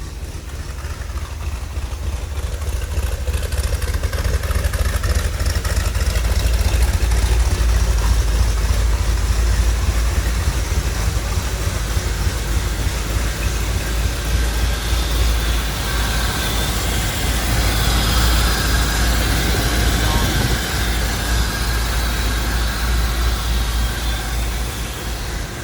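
A 1964 Chevrolet Corvette coupe with a matching-numbers 327 V8 and 4-speed idles with a continuous, deep, even rumble that stays close and steady for the whole stretch, with no talking over it.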